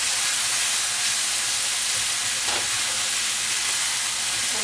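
Peppers, tomatoes and basil cooking in a pan, giving a loud, steady hiss and sizzle that runs without a break, heard close with no voices.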